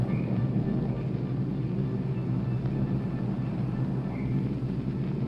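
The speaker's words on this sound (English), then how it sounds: "It's the humming engines of old airplanes." Droning engines of old airplanes in the video game Oxenfree, a steady low rumble holding evenly throughout with faint higher tones drifting over it.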